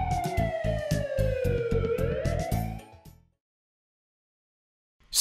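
An ambulance siren wails and sweeps in pitch over a pulsing low rumble for about three seconds, then cuts off abruptly into silence.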